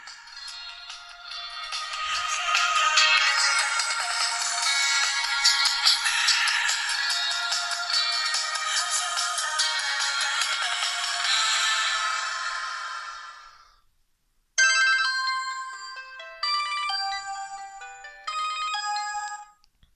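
A Sony Ericsson W850i mobile phone from 2006 plays a bright, loud ringtone, a dense electronic melody lasting about thirteen seconds, then a brief silence before another choppy, beeping tone pattern starts in short bursts.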